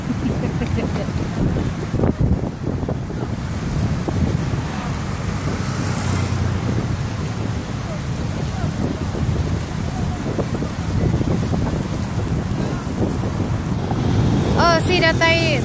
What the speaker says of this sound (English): Oh, see the tide, all the waves.